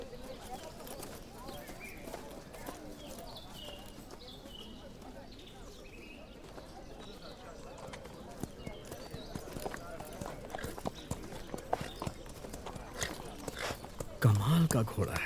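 Horse hooves clip-clopping steadily, faint at first and louder toward the end, with a busy crowd and other background sound, and speech heard beneath.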